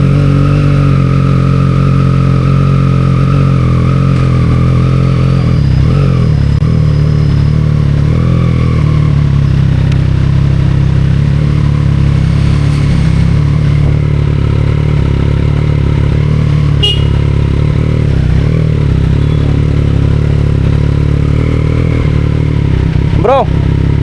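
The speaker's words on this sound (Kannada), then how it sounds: "Just I'm starting my bike." A new Triumph Street Triple motorcycle engine fires up and runs at a steady, loud idle close by, with a dense mechanical drone and a brief rise partway through.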